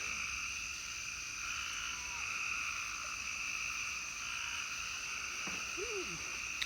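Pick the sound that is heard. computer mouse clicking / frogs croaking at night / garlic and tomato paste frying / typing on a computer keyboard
frogs croaking at night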